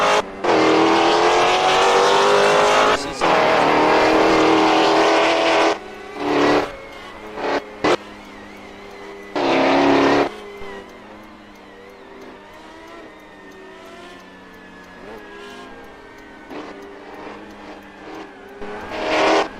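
Historic GT1 race cars roar past on a track, engines swelling loud and close in bursts, then fading away between passes, with a tire squeal.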